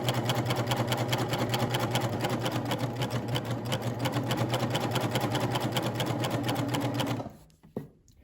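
Sewing machine stitching the hem of a Simplicity 8874 maxi dress, running at a steady, rapid, even rhythm close by for about seven seconds, then stopping abruptly with a short click or two.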